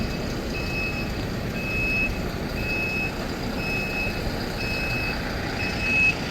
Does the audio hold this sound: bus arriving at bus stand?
yes